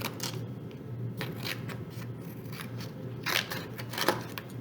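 Scissors snipping through paper to cut out flower shapes in a primary-grade art lesson, a run of close, crisp cuts in an irregular rhythm with no voices.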